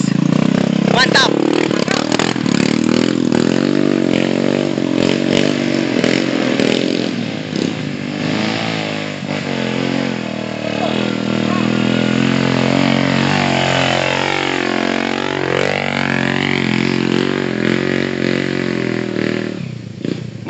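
Trail motorcycle straining up a slippery, muddy incline, its engine revving hard and continuously with rising and falling pitch throughout, loud and close, while people shout over it.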